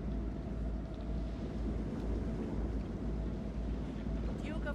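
Steady storm wind roars over rough sea with a boat's low rumble in Man of Medan, a continuous loud rush throughout, with a faint squeak near the end.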